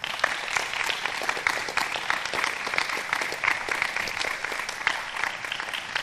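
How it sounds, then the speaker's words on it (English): An audience claps steadily for panelists at the close of an education panel on race, faith and justice, a dense, even wash of applause sustained throughout with no voices over it. "please give the panelists a round of applause"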